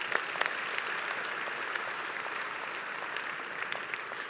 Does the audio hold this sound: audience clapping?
yes